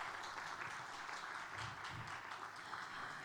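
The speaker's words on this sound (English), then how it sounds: "Let's welcome him with a huge round of applause," Faint applause from an audience at a media briefing for the Visit Nepal 2020 campaign, a soft, continuous patter of clapping heard from a distance.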